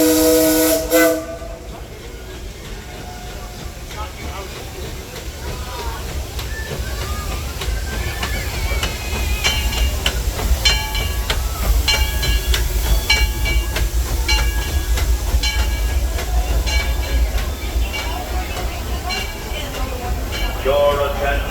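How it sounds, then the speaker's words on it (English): The Disneyland Railroad train arrives at a station, a continuous rumble of rolling cars and track noise with a short whistle-like tone near the start and an announcer's voice over it. "The Disneyland Limited, now arriving from a trip around Walt Disney's Magic Kingdom."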